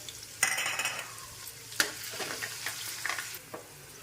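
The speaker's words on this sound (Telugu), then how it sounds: "కొన్ని ఆవాలు, జీలకర్ర, ఈ బరకగా దంచుకున్న వెల్లిపాయలు వేసుకొని వేయించుకోవాలండి." Mustard seeds, cumin and coarsely crushed garlic fry in oil for an amla pickle, crackling and hissing close by, with a few sharp pops and stirring clacks against the pan.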